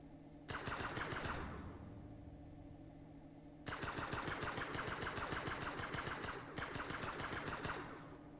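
Rapid automatic gunfire in the space-survival video game Breathedge rattles in three long, sustained bursts, loud and continuous, with nobody talking.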